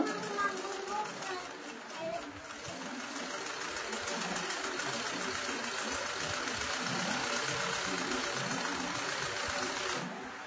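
A sewing machine stitching the inner seam of a semi-patti pant runs in a steady, fast, low mechanical whir for most of the stretch, with a voice speaking over it.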